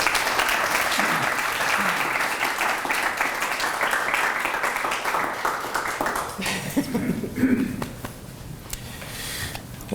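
An audience at a memorandum of understanding signing for an affordable housing program applauds loudly and steadily, a dense roar of clapping that thins out after about six seconds, with a few scattered claps and some faint murmuring under the fading tail.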